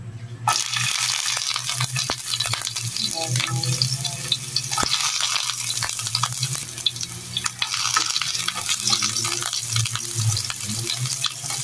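Ginger pieces sizzle in a little hot oil in a home kitchen pan, a steady, close frying hiss with scattered crackles and stirring scrapes throughout, no talking.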